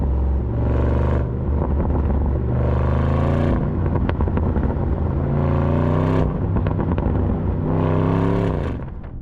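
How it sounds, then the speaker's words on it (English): A 2025 Audi RS Q8 Performance V8 with a freer-flowing, less muffled exhaust rumbles loudly and close up, climbing through revs in long rising sweeps broken by brief lifts, with no voices over it. "the V8 rumble itself"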